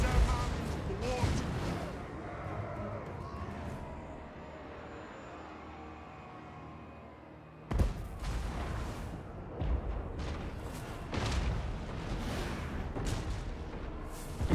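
Cannon artillery booms in a Warhammer video game battle, heavy blasts mixed with battle noise and shouted game voices, rising again in a burst of sharp impacts after a quieter stretch.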